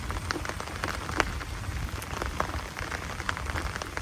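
Steady rain pouring onto a veranda, a dense close hiss with scattered sharper drip and splash impacts throughout, no talking.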